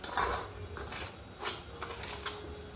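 A spoon mixes dry red chilli powder, nigella seeds and carom seeds into soya batter in a bowl, making close, quiet scraping strokes and light clinks against the bowl's side.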